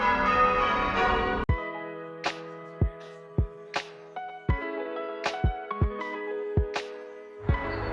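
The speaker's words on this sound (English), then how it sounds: "And listen to them church bells ring." Church bells in Canterbury ring in a slow, uneven series of clear strikes, each tone hanging and decaying, after a brief burst of louder outdoor noise at the start.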